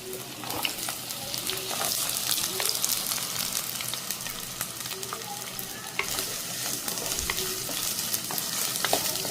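Shallots and green chillies sautéing in a pan, with a steady sizzle under intermittent stirring scrapes and light clinks, close and moderately quiet throughout.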